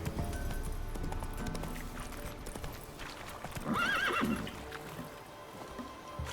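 Roach, the horse in the video game The Witcher 3, gallops with rapid rhythmic hoofbeats and lets out a loud whinny midway, over soft ambient game sound.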